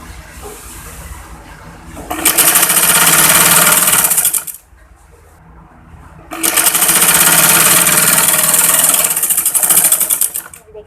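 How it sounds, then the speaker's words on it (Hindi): Home sewing machine stitching the hem of a trouser bottom, running loud and steady in two long bursts with a short quiet pause between, no talking. "चलिए मैं सिलाई कंप्लीट कर लेती हूँ।"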